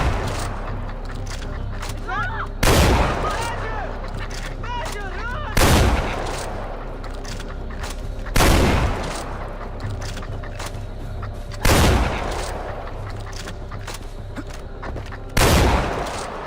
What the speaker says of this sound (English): This shotgun's great.